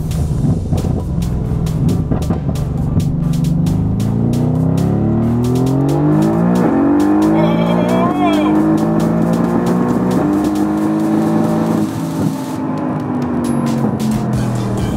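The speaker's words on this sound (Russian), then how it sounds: "И сейчас я попробую в режиме Sport Plus открыть полный дроссель." A Mercedes-AMG GT R tuned to 1100 hp, on semi-slick Toyo rear tires, accelerates at full throttle in Sport Plus mode, its engine droning loud and steady as the pitch climbs through successive gears.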